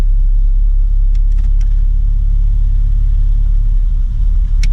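Car being rebuilt, with misaligned front wheels, runs its engine as a steady low rumble and drone while put into gear, loud and continuous throughout with a few faint clicks.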